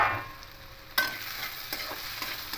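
Potatoes and vegetable stalks fry in a covered pan, giving a faint steady sizzle with a sharp clatter near the start and a few soft scrapes afterward.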